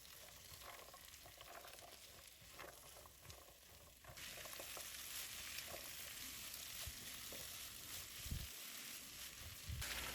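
A potato and carrot shingara filling with garam masala is stirred in a frying pan, soft sizzling under repeated scraping strokes, quiet and close.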